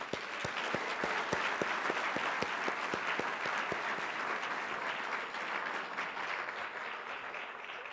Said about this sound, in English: So let's give them an extra round of applause.